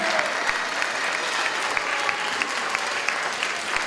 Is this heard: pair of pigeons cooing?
no